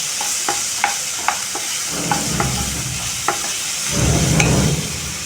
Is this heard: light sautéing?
yes